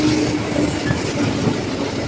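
A train rumbles past close by near a station, wheels clattering over the rails in a continuous loud roar with no voices.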